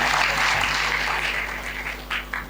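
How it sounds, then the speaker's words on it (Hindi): Audience applause at an Indian couple's celebration event after a thank-you speech, a broad steady clapping wash with a low electrical hum beneath, tapering slightly with a few sharper claps near the end. "आप सभी लोग के लिए होना चाहिए ताली।"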